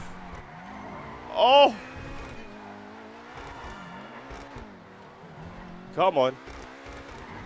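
Obey 10F sports car in GTA 5 handbrake drifting, its engine droning and rising and falling throughout, with two sharp tire squeals about four seconds apart while a man exclaims over it.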